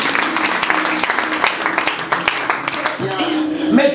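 Applause in a church service, a dense wash of many hands clapping continuously, loud and close, mixed with voices and a swell near the end.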